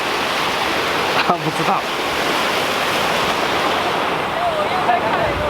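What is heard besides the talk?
rushing water at a river drainage outlet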